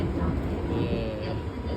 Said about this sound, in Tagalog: So nakasakay na kami sa tren.